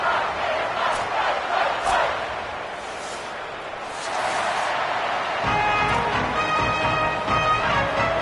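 A home stadium crowd in the College Football 27 video game roars steadily before a Hurricanes kickoff against Georgia. The broad, dense cheering holds throughout, and brighter tonal sounds join the crowd noise partway through.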